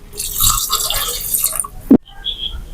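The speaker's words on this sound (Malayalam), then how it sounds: "ഇനി ഇതിലേക്ക് ഒരു ഗ്ലാസ് വെള്ളം കൂടി ചേർക്കാം" Water pours and splashes into a vessel for about two seconds, ending with a brief thump, followed by a quieter moment.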